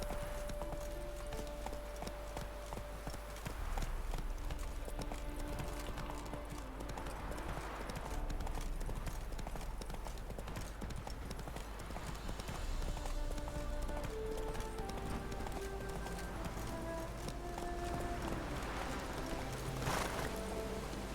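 A horse galloping in The Witcher 3, hooves beating a fast, steady clip-clop throughout at close range, with game ambience and music underneath and no talk.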